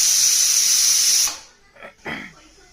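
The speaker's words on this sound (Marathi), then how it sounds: "एक शिट्टी झाली कुकरची" A loud, hissing kitchen pressure cooker whistle blows steadily for over a second, then cuts off; faint kitchen sounds follow.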